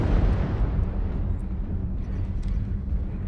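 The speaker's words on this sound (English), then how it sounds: "I guess we used artillery?" Artillery strike explosions in the MechWarrior Online combat game, a sustained low, heavy rumble of blasts rolling continuously for a few seconds with no talk over it.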